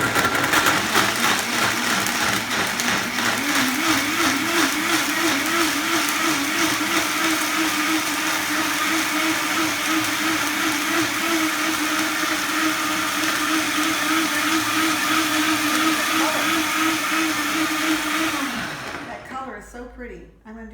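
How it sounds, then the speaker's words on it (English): A blender whirs steadily while blending a cranberry smoothie, a loud, continuous motor drone with a wavering pitch that holds for about eighteen seconds before cutting off abruptly. "So let me get to it and blend it up for you."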